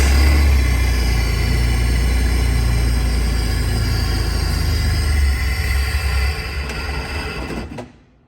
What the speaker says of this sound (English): the easier way is gonna be to start the Jeep